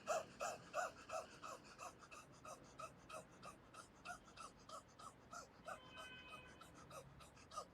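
Rapid breath-of-fire yoga breathing: a quick, regular train of short forceful nasal exhales, about two per second, close and fairly quiet, with a faint voice in the background.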